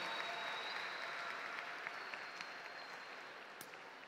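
Steady audience applause from a crowd at a mathematics class session, a dense even patter of many hands that holds throughout and fades slightly toward the end, with no talking over it.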